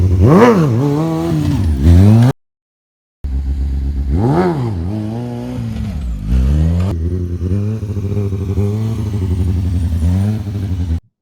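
A stunt motorcycle's engine revs loudly and close during a wheelie, rising and falling throttle sweeps with a brief cutout before more sustained revving.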